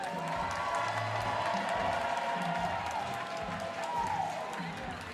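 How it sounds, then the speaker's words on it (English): Crowd applauding and cheering for two fighters at a combat sports event, a dense wash of clapping and whoops in a large arena, loud and continuous, with a voice talking over it. "Please join me in making a round of applause for Kamren Burton and Tony Hope"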